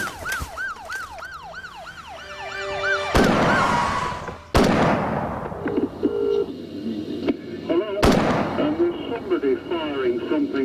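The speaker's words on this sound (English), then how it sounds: "Firing something which sounds like an automatic rifle." Gunfire from an automatic rifle: a few sharp, loud single bangs spaced several seconds apart, mixed with wailing siren tones and other background noise.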